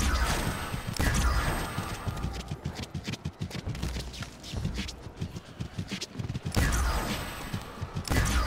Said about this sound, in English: I am risking these ray gun shots right now